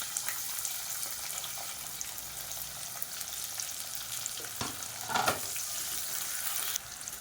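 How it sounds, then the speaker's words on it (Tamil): Spices, green chillies and sliced onions fry in a pan with a steady close sizzle and crackle, occasional stirring clinks breaking through the hiss. "இப்போ எல்லாமே பொரிய ஆரம்பிக்குது."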